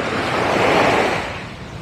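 Surf washes onto a beach in Phuket, Thailand at low tide, a loud, close, broadband rush that swells and then eases slightly, with some wind noise and no talking.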